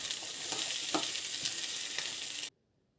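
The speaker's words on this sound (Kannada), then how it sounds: "ಚೆನ್ನಾಗಿ ಫ್ರೈ ಆಗಬೇಕು, ಜಾಸ್ತಿ ಫ್ರೈ ಆಗಬೇಕು ಅಂತಿಲ್ಲ, ಸ್ವಲ್ಪ ಕಲರ್ ಚೇಂಜ್ ಆಗುವ ತನಕ ಫ್ರೈ ಆದರೆ ಸಾಕು." Okra (ladies finger) frying in a pan for a masala, a dense, even hiss of oil with a few soft stirring knocks, cutting off abruptly to silence near the end, no voices.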